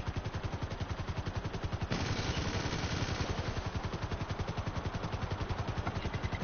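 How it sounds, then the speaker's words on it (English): Sustained machine gun fire in the video game GTA V Online: a loud, rapid, steady stream of shots in a fast even rhythm that intensifies briefly partway through, with no talking. "The machine guns from it."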